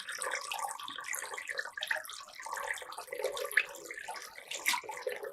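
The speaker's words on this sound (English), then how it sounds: "We will have to fill water to the maximum." Water pours and splashes into a container during a school hydrostatic pressure lab, a continuous gurgling, fairly faint trickle with small bubbling bursts and no talking.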